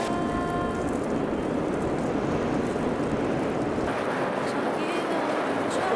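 Steady roaring wind in a winter blizzard buffets the microphone in a continuous loud rush from start to finish.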